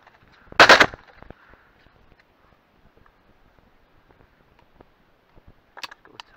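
During pigeon shooting from a natural hide, one sharp, loud shotgun blast cracks close by, and a fainter, shorter report follows several seconds later against near silence.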